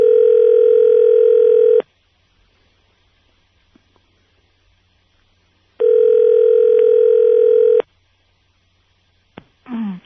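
A telephone line gives off a steady dial tone in two separate bursts with silence between them, followed by a short sound near the end.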